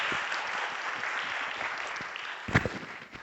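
Audience applause for a speaker at a cancer-and-law talk, heard as a soft, distant wash of clapping with one sharper clap near the end, faint throughout.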